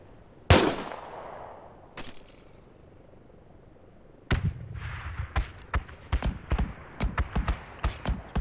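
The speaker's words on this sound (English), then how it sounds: "And the APC is shooting at factory." An APC fires its guns in the military shooter Project Reality: one sharp loud blast, another shot, then after a pause a rapid irregular string of distant-sounding bursts and thuds.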